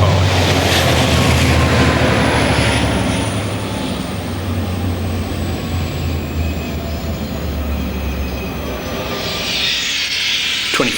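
Steam locomotives D3639, J515 and Y112 haul a train past at Warn Ponds, a loud rumbling roar with a steady whistle-like tone that gradually fades as the train moves off.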